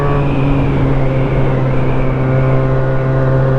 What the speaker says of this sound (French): le moteur lui franchement après 8000 ça gueule un peu